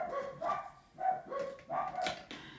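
Dogs bark repeatedly at a car going down the street, a series of faint, fairly distant yaps and woofs in uneven bursts.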